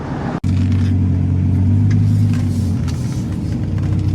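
A loud straight-piped Dodge Ram SRT10 truck engine rumbling close by with a deep, raspy exhaust note, holding a steady high idle after a brief cut at the start.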